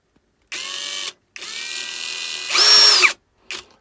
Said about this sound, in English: I've got it stuck on with the Aldi 40-volt cordless drill